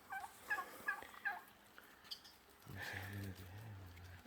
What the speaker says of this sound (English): the birds know we feed them, so they're slowly making their way to us